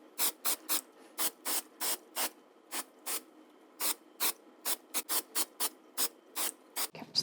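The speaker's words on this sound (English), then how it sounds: "So we're gonna start by spraying this way." Short bursts of a spray bottle misting Apple Garde protectant onto a Louis Vuitton vachetta leather bag, about twenty quick hissing pumps in an uneven rhythm, close and fairly quiet.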